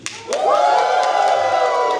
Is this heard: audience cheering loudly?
yes